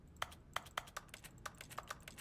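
A piano in the video game The Stanley Parable Ultra Deluxe gives off sharp, clicky taps like a computer keyboard, about ten quick uneven presses close up with no voices.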